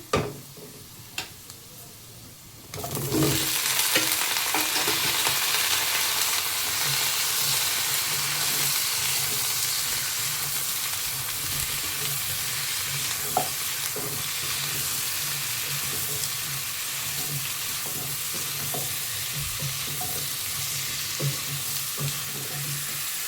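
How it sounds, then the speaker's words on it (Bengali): Browned onion and vegetables in a pan start to sizzle loudly after a quieter few seconds, then keep up a steady, close hiss of frying with occasional stirring clicks. "পেঁয়াজটা আমি লাল করে ভেজে নিয়েছি, এর মধ্যে আমি সবজিটাকে দিয়ে দিচ্ছি"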